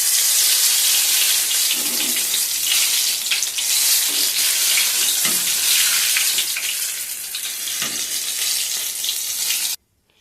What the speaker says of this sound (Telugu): మిరపకాయని పిండిలో అద్ది సగం మాత్రమే ఇట్లా అని వేయాలి